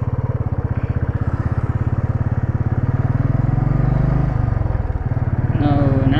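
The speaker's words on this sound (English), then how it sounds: "now I'll be giving a demonstration of the braking technique on this bike" Royal Enfield Classic 350 motorcycle engine running steadily close by with its thumping single-cylinder pulse, loud throughout, rising slightly toward the end during a braking demonstration.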